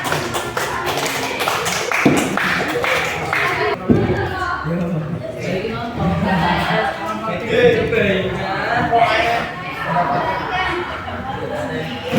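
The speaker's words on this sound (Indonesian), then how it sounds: "tepuk tangan buat kelompok 1" Workshop participants clapping for a group during a coaching session, a short burst of quick claps at the start giving way to overlapping voices and chatter for most of the stretch.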